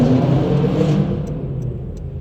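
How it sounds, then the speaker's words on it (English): A car engine rumbles loudly nearby, its roar swelling briefly and then fading away as the vehicle moves off. "there's a car making noise"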